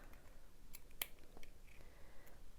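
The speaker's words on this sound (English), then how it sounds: "We're going to make a little snip" Scissors make a single small snip through the top layer of a fabric leggings waistband. The cut is quiet and close, against faint background noise.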